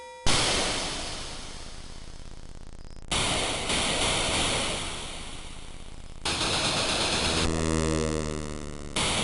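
Water sound effect from the Commodore 64 game Beach Head: a loud, steady wash of surf-like noise that cuts abruptly between sections, the last part gaining a buzzy, tonal texture.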